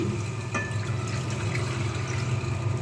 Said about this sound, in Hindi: अब इसमें मैं शामिल कर दूंगी पानी